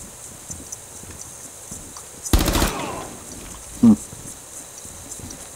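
Gunfire in the tactical shooter Rainbow Six comes as a single short, loud burst of rapid shots. A sharp, brief report follows a moment later, all over quiet game ambience.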